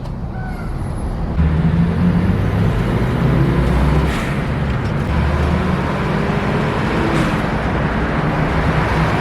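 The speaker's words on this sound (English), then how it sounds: "A little more Phoenix traffic." Road traffic in Phoenix gives a loud, continuous roadway rumble. Vehicles hiss and drone past close by, with a brief lower engine swell as a heavier vehicle goes by and no one speaking.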